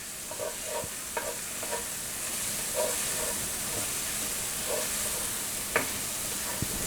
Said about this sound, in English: I got to stay stirring in there because we don't want them onions and stuff